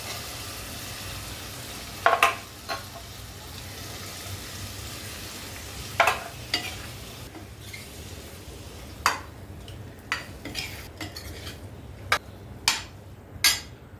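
Raw jackfruit frying in masala for a curry, with a continuous soft sizzle and a series of sharp metallic clanks from a spoon striking the pan as it is stirred, coming in irregular bursts.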